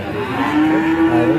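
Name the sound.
cattle mooing, Pegon breed bull calf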